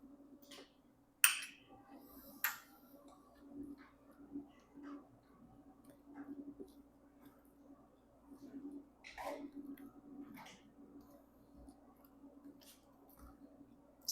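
Gelatin being stirred into hot apple compote, a soft, quiet sequence of wet squishes and light ticks of a utensil against the pot, with a few sharper clicks spaced irregularly.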